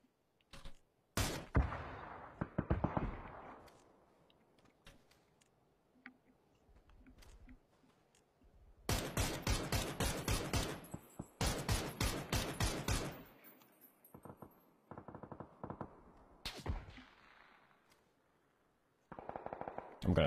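Video game gun firing in rapid, loud bursts of automatic gunfire with heavy recoil, separated by short pauses of quiet, alone without talk.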